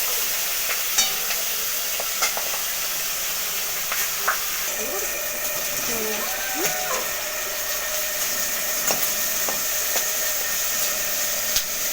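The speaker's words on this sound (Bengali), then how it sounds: "মাছগুলো ভাজা হয়ে গেছে তুলে নেব নিয়ে বাকি মাছ মাথাটা ভেজে নেব" Fish heads frying in hot oil in a kadai, a loud unbroken hissing sizzle with scattered pops and faint spatula scrapes throughout.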